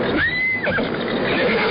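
A horse gives one short whinny, loud and near. A dense noisy sound-effect bed runs behind it in a radio drama.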